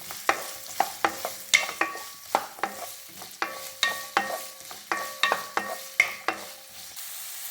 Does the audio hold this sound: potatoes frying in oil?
yes